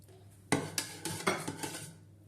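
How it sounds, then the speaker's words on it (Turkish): A spoon stirs ingredients in a bowl, giving a quick series of about six clinks and scrapes against the sides, close and clear with no talk. "bütün malzemeleri karıştıracağız"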